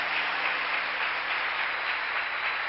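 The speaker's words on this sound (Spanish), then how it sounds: "Vamos, pueblo, ese aplauso fuerte al que vive." Steady, dense applause from a large church congregation, continuous and even throughout with no pauses.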